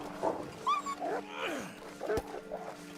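Wolves in The Long Dark snarl and yelp in short bursts, a handful of sharp growls and whimpering cries scattered at moderate volume, with a sudden crack partway through.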